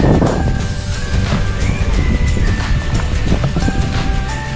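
Strong wind buffets the microphone in a constant loud rush, roaring and rumbling with no break.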